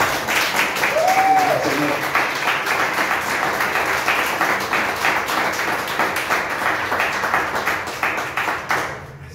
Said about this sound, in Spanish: ¿Cuánto le dan un aplauso al Rey?